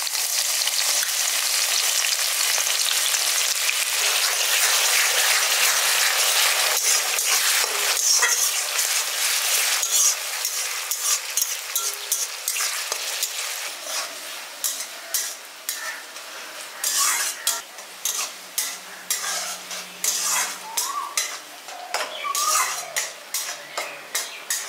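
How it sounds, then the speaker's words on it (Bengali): Two chopped onions fry in hot oil with torn bay leaves and a dried red chilli for a village-style chicken kosha: a loud, steady sizzle at first, then settling under intermittent scraping stirs with a spoon. "পেঁয়াজগুলো দিয়ে হালকা করে ভেজে নিয়েছি।"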